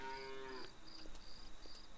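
A cow moos in the farming video game Farmer's Dynasty, one drawn-out low call at the start, followed by faint ambient farm sounds and light chirps.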